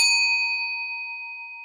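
A chant bell struck once, ringing alone with a clear, sustained metallic tone that slowly decays over nearly two seconds.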